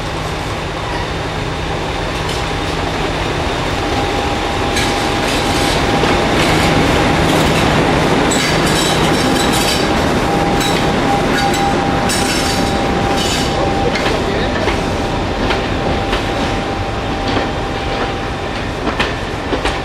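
Class 50 diesel locomotive Royal Oak climbs toward World's End Bridge on a former Great Western branch line with Class 08 13002 on the rear, a loud sustained engine drone with wheel clatter and a thin squeal, close by.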